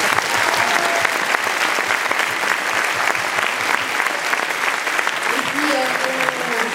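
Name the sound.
audience applauding French actress Elodie Yung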